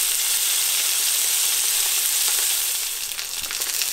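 Salmon steaks frying in hot oil in a pan, a loud, dense, continuous sizzle with fine spattering crackles, heard up close and steady for the whole stretch without any talking.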